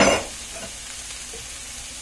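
Food sautéing in a pan after a generous seasoning of salt and pepper, a brief loud scrape at the start and then a soft, steady sizzle.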